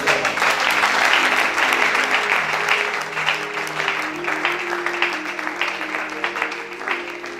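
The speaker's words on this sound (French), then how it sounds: "Encourage-moi, acclame Jésus" Church congregation clapping and cheering for Jesus during a French-language sermon, a loud sustained round of applause with voices rising over it, gradually thinning toward the end.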